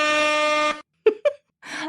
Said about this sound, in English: That air horn is still super fun.